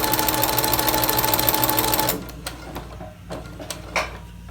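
A sewing machine stitches a face mask seam in one loud, continuous run that stops about halfway through, followed by a few quiet clicks and handling sounds.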